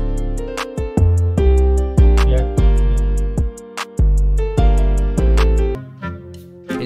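A hip-hop beat built in FL Studio 20 thumps along with heavy booming bass hits on a regular pulse, crisp percussion on top and sustained melodic layers, loud and close, before a short dropout near the end.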